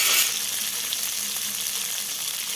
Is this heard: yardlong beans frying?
yes